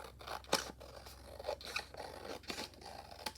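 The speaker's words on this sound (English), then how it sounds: "I'll flip it over and then trim off the excess" Scissors trimming excess material off a handmade journal cover, a few quiet close snips and scraping cuts in a calm room.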